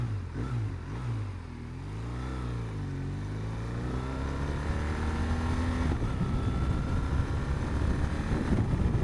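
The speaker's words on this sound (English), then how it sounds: "I love the low exhaust note" A 2015 BMW R1200R motorcycle under way on open roads, its low exhaust note rising and falling as revs climb and ease, then holding a steady deep drone with wind rush building, loud and close throughout with no talking.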